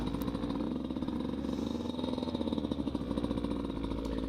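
A Beta 200 RR two-stroke dirt bike runs close by after an electric start at a Durhamtown demo day, its engine putting out a steady, rapid, buzzing pulse at a fairly even idle.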